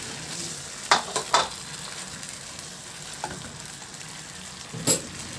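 Boiled eggs dropped into a pan of bubbling sauce made with Sprite soda, a steady soft sizzle and simmer broken by a few sharp clinks and splashes as the eggs go in.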